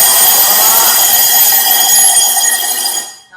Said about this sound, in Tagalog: Tingnan natin kung iilaw ba at tutunog yung ating buzzer.